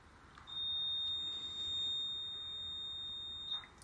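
A model railroad alarm sounds as a single sustained high-pitched electronic beep, steady and fairly faint against quiet room noise, lasting about three seconds.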